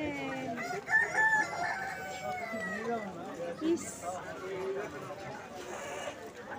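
A rooster crows among a flock of poultry chickens, with clucking and scattered bird calls around it, while a person talks over much of it.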